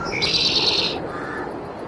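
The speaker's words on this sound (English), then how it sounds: "There must be a bird in here because that was loud." Bird call in the Farming Simulator 22 video game, a single loud, shrill whistling chirp lasting under a second, followed by a fainter trailing tone over steady background hiss.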